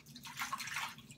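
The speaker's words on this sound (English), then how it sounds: "Going to add a little bit more water to my bowl." Water is added to a shaving soap bowl, a short close trickle and splash that swells and then tapers off, heard alone.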